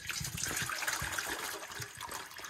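Water poured into a bowl for a dog at a winter ice camping site, a steady close splashing trickle lasting the whole moment with no talk.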